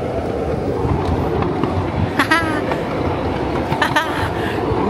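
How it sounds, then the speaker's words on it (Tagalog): A mini tourist train at Pier 2 in Kaohsiung rumbles along with a continuous low rolling noise and occasional clicks and squeaks, heard from on board. "Sakay na tayo ng choo-choo train."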